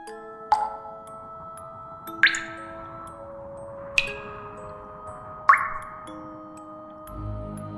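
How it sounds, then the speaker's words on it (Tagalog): Drops of red liquid fall one at a time in a dark horror scene, four distinct wet plinks spaced a couple of seconds apart with a short ringing tail, over a low, still drone. "may pulang likido na tumutulo"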